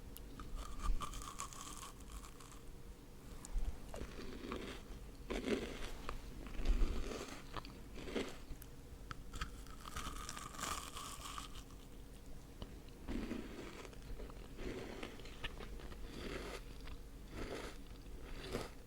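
Crunchy food being bitten and chewed close up, with a run of sharp crisp crunches spaced irregularly through the stretch and quieter chewing between them.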